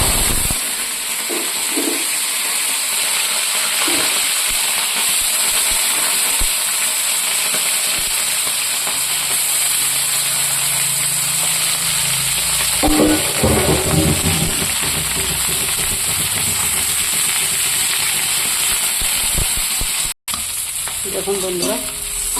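Chicken pieces sizzle steadily in hot oil with chili and spices, a loud continuous frying hiss broken by occasional stirring scrapes, with no talk.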